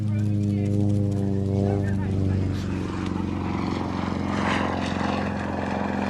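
A low-flying aircraft passes just a few feet above a runway, its engine drone loud and sustained, with a strong throbbing tone that shifts in pitch as it goes by.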